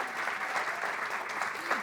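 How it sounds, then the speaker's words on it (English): A conference audience applauds award winners at a ceremony, a sustained wash of many hands clapping, with a voice speaking over it. "Just one more round of applause."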